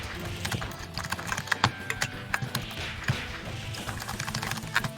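Rapid computer keyboard typing during a casual online fighting-game session, a dense stream of close, clicky keystrokes with occasional harder taps, steady throughout.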